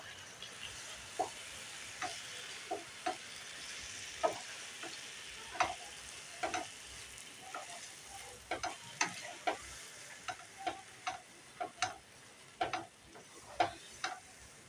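A spoon stirs shrimp paste into taro stolons frying in a pan, with irregular clicking scrapes against the pan over a soft, steady sizzle.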